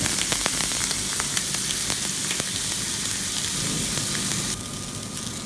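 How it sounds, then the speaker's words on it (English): Marinated chicken breast sizzles on a griller with a loud, steady frying hiss and scattered crackles and pops, close up and continuous, dropping slightly in level near the end, with no talking. "I will also place this on the griller."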